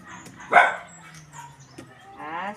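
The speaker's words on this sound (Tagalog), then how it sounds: "Aso ng kapitbahay." A neighbour's dog gives a single loud, close bark near the start, then quieter yips and whimpers follow over a low background.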